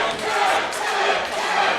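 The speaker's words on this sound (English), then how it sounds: "And the crowd goes up for Jay Joshua." A wrestling crowd at a Creation Pro Wrestling show roars loudly and steadily for hometown wrestler Jay Joshua, a dense, sustained wash of cheering and shouting.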